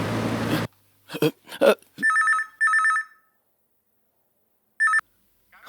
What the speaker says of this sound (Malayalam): സാർ, ആശയരാജയുടെ ഫോൺ ലൈനിൽ വെയിറ്റ് ചെയ്യുക.